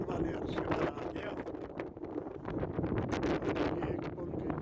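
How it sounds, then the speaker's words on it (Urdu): Ferry moving along the Parramatta River in Sydney, a steady churning rumble of engine and water with gusty wind buffeting the microphone throughout, someone speaking over it. "یہ ایک پل کے نیچے سے اب یہ ہماری فیری بوٹ گزرے گی۔"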